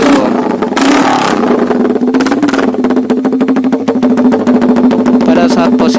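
A Suzuki GS motorcycle fitted with a Racefit slashcut exhaust idles loudly up close, a deep steady burble with a brief blip of revs early on, while someone talks over it.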